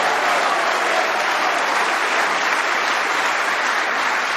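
A snooker crowd at a professional final applauds a successful pot with loud, steady, continuous clapping that fills the whole stretch, with no talk over it.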